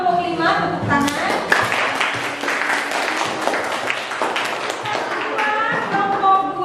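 A classroom group claps and applauds in a steady, dense patter for several seconds, with voices talking over the clapping.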